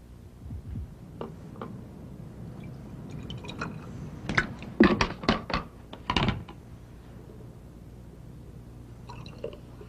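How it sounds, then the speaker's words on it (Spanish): Bubbling from a chemical reaction in a lab demonstration, heard as a burst of quick fizzy pops and crackles clustered mid-way, close and moderately loud over faint background noise, with no talking. "¡Wow! Mire las burbujas."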